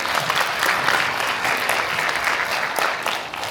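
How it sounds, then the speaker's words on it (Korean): Audience applause at a Korean property appraisal briefing session, a loud, dense and continuous patter of many hands clapping together that fades slightly toward the end, with no speech over it. "다시 한번 감사의 박수"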